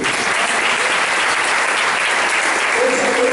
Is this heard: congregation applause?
yes